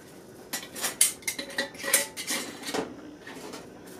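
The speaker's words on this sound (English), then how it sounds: "It's tricky to get the ring on tight while it's so hot" A metal ring and lid screwed onto a hot canning jar give a run of close clinks and scraping rattles of metal on glass, bunched in quick bursts, with no voices.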